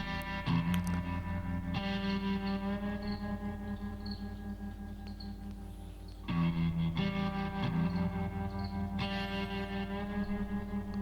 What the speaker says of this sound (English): Nice guitar tones, nice atmosphere to it already.